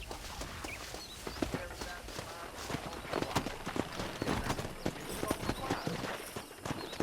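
Horse hooves clip-clop steadily in the Red Dead Redemption video game as a rider wrangles horses, a busy run of hoofbeats and movement with voices talking over it.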